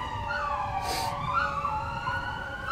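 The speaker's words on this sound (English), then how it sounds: "Damn fucking sirens." Emergency vehicle sirens wail steadily in the distance in Southern California, rising and falling over constant background traffic rumble, with no talking.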